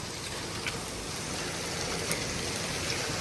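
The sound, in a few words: heavy rain with hail in Malta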